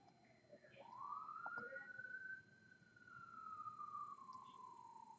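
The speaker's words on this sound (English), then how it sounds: "I hear sirens." A faint, distant siren wails in one long rise and slow fall over a quiet background hum, with no one speaking.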